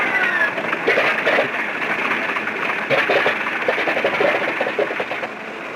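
A WWII aircraft's number 2 piston engine running steadily after starting, a continuous buzzing drone with a rapid rhythmic pulse, loud and close throughout, on an old restored film soundtrack.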